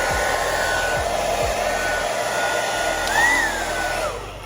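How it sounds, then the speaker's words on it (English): Blow dryer blowing warm air onto a lace wig, a loud steady broadband whoosh throughout, with a brief rising whine near the end as the airflow shifts. "So once I get my blow dryer,"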